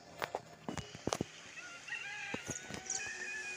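Chickens clucking and crowing in the zombie survival game The Walking Zombie 2, a few short calls standing out over a steady background of game ambience, with no talking.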